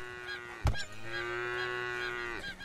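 A cow moos in the video game Craftopia, a single long low call close by, preceded by a short thump and heard alone without talk.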